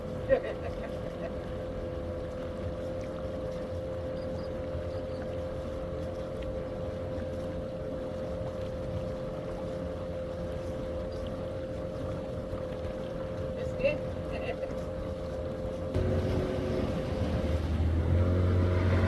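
A motorboat engine drones steadily on open water along Guatemala's Pacific coast among roosting pelicans, a constant mid-pitched hum with wind noise, growing louder and rougher near the end.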